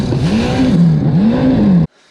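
A Waverunner personal watercraft swapped with a 1.8 liter supercharged Yamaha engine revs loud and close, its pitch rising and falling in repeated surges before cutting off abruptly into near silence.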